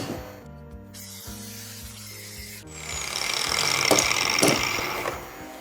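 An angle grinder works against a metal bushing clamped in vice grips during a vintage Drummond lathe modification, a harsh rasping grind that rises after a short quieter stretch of handling noise and holds steady to the end.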